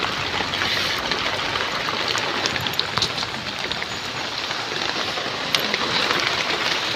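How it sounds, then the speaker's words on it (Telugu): Heavy rain pours on a village yard, a steady, even hiss of falling water that holds at the same level throughout, close and continuous. "కొద్ది తగ్గినట్టుంది జల్లు. కొద్ది తగ్గిందా జల్లు?"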